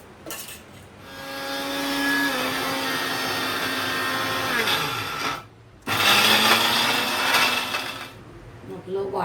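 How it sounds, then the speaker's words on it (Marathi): An electric mixer grinder whirs loudly, grinding coconut and onion into a paste, in two long bursts separated by a brief pause, its motor pitch sagging as the load thickens. "हे वाटण करून घ्यायचं आहे. खोबरं सुद्धा आता वाटणामध्ये घालूया, खोबरं आणि कांदा."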